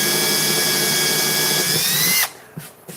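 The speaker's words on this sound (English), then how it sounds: "So I pre-drilled that little pilot hole there" A power drill bores a pilot hole into a wooden board, running loud and steady with a high whine for about two seconds before stopping abruptly, followed by a few faint handling clicks.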